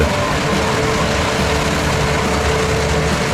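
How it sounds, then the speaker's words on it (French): A Fendt tractor running in reverse-drive mode pushes a six-row maize chopper in the field, its engine producing a loud, steady, low drone with no one speaking. "Ici, nous voyons un tracteur Fendt utilisé en poste inversé"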